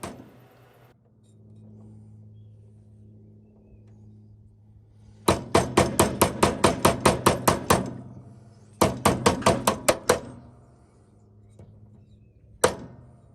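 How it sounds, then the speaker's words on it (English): A hand beats a pulley onto the transmission shaft of an Exmark 48-inch mower with a Peerless 700 transmission, giving two rapid bursts of about a dozen sharp, close knocks each, then a final single knock over a low background hum. "just beat the pulley with your hand until it goes all the way and won't go any further"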